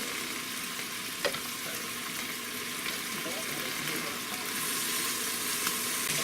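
Steak sizzles as it stir fries in an Instant Pot, a steady broadband frying hiss with occasional small pops, fairly close and continuous throughout without talk.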